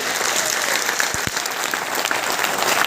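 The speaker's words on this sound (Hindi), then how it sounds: "एक बार जोरदार तालियां मारो दीदी के" An audience breaks into loud, continuous clapping at a motivational talk in India, a dense steady applause with a couple of sharper claps standing out.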